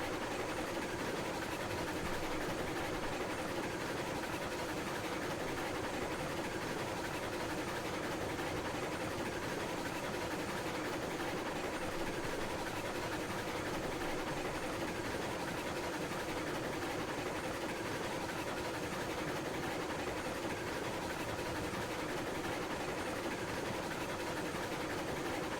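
A steam train in the Railroads Online video game chuffs steadily along, a continuous low rhythmic engine churn with rail noise, fairly faint and alone with no talk.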